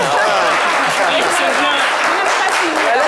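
A studio audience on a French television talk-show set applauds in a dense, steady wash of clapping, loud and close, with voices mixed into the noise.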